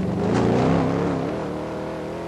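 Off-road racing vehicles tear across Baja desert terrain, a loud sustained engine roar swelling and then easing as they drive fast, with no voices.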